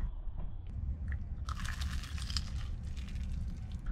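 A bite into crunchy fried chicken at a Memphis restaurant gives a burst of dense, crisp crackling close to the mouth, running for a couple of seconds over steady low background room noise.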